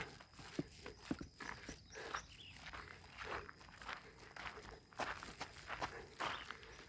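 Footsteps walking along the ground, somewhat irregular and shuffling at moderate volume, with a few sharper steps and a faint murmur in the background.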